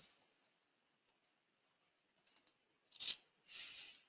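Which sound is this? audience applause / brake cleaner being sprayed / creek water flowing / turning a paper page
turning a paper page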